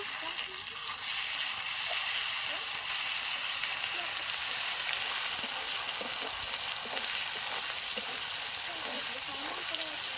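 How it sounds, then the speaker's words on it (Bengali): Garlic paste added to fried onions in a pan for mutton curry, giving a steady, bright sizzle with occasional crackles and stirring scrapes, continuous for ten seconds at close range. "পেঁয়াজটা আমার ভাজা হয়ে গেছে, এবার রসুন বাটাটা দিয়ে দেব।"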